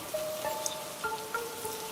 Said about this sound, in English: Downpours can occur here at any time